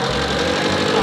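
A homemade go-kart engine runs close and loud with a rough, mid-pitched mechanical drone, holding steady for about a second with no clear separate bursts.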